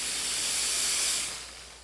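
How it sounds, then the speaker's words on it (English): A Carico ProSeries 360 dry steam cleaner releases a steady, loud hiss of steam at close range, easing off toward the end. "to operate the steam, you simply pull the trigger"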